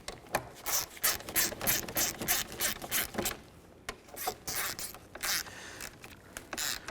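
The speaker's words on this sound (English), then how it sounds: "you go ahead and follow up with the ratchet and snug all 3 up" Close ratchet clicking in quick bursts while mounting bolts on a 2010-2017 Chevy Equinox side view mirror are snugged down, several rapid runs of sharp pawl clicks with short pauses between them.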